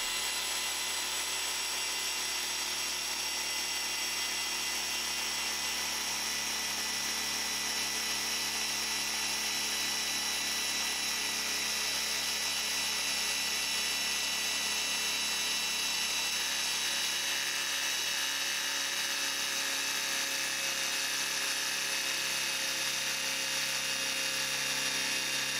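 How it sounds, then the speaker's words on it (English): Battery-powered orbital polisher with a 15mm throw working over car paint with a finishing compound and a foam pad, a steady continuous whirring drone with a high-pitched motor whine running the whole time, fairly faint and with no talking. "And this is on a polisher with a 15mm throw."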